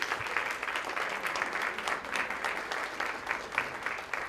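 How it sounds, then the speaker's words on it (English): An audience at a parents' council meeting applauding the staff, dense sustained clapping from many hands filling the room at a steady level throughout. "can we please give our staff a round of applause?"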